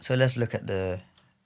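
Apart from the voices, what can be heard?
No distinct noise like a dog, phone or traffic.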